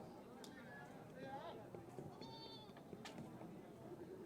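Goats bleat several times amid a busy outdoor crowd at a goat sale, with people talking and bargaining throughout and other animal noises mixed in.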